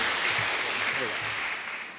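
Rotary meeting audience applauding a guest speaker, a brief wash of clapping that fades toward the end, with voices talking over it.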